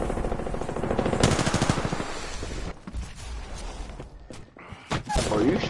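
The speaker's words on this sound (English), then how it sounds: "I'm taking shots." Rapid video game gunfire, bursts of automatic fire with dense repeated shots through the first half, then scattered louder single shots and impacts, loud and close with a voice briefly talking.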